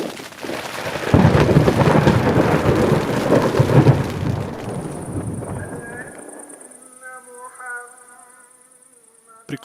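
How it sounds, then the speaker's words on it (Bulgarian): A loud, deep rumble of thunder rolls and fades over rain in the mountains, then gives way to quiet tonal sounds near the end. "Дано се размине бурята."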